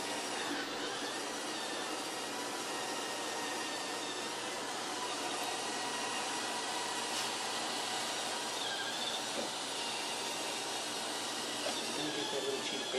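A Roomba robot vacuum cleaner runs steadily indoors around dogs, a constant hissing whir of motor and brushes with no clear pauses.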